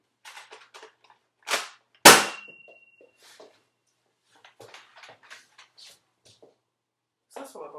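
A Nerf Rival Apollo XV-700 toy blaster fires two sharp, close pops, the second with a ringing metallic clang, surrounded by faint scattered voices and small handling clicks.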